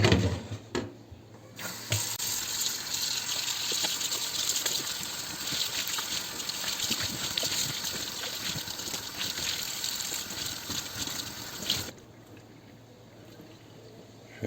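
Tap water gushes steadily over dirty cleaning cloths as they are rinsed, running strongly for about ten seconds before cutting back to a faint trickle.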